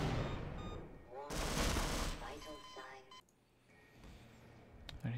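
A burst of gunfire in Half-Life, a dense loud volley of shots lasting about a second amid game noise, surrounded by people talking before and after.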